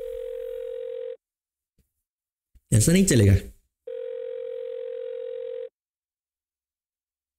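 Phone ringback tone in The Karaoke video game, two long steady beeps of about a second each, loud and close, separated by a short burst of speech between them.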